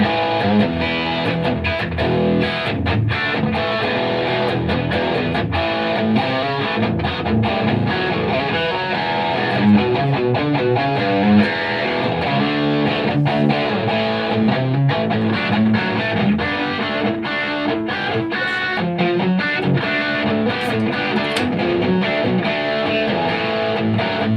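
A heavily distorted electric guitar through a Super Distortion pickup plays continuously, loud and gritty, with thick sustained chords and steady strumming throughout.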